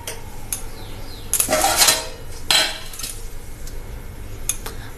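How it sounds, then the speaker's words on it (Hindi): Metal cookware clanks as a large steel pot of water and a perforated metal vessel are set in place for steaming idli, a few sharp bright clatters and scrapes spread over several seconds, close and alone. "और ऐसा छेद वाली एक बर्तन चाहिए, तो इसे मैं रख दूंगी इसके ऊपर।"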